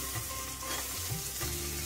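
Grated ginger sautéing in a pan for paneer bhurji, with a close crackling sizzle and soft stirring scrapes over a low background hum.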